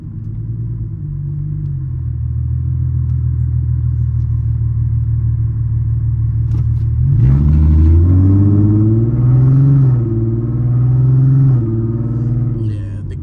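An Infiniti G35 on the road gives a steady low engine drone, then rumbles louder as it accelerates through gears, the pitch rising and falling in waves, heard close from inside the car.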